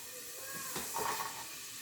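Finely sliced white onions hit hot oil in a cocotte, giving a close, steady sizzling hiss that swells briefly in the middle before settling back.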